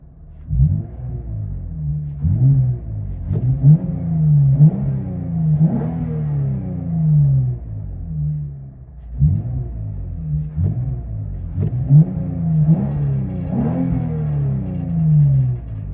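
A 2018 Lexus RC 350 F-Sport with a muffler delete revs repeatedly, its deep, throaty exhaust rising and falling in loud rumbling surges with crackles between pulls.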